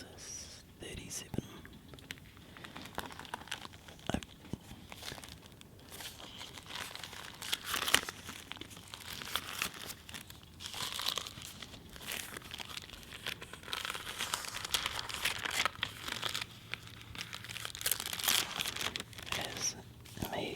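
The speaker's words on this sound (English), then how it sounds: "It has amazingly crunchy pages from how old it is." Brittle, crunchy pages of a very old, well-used Bible being turned, with close crinkling and rustling throughout, heard under soft whispered speech, with a fire burning nearby.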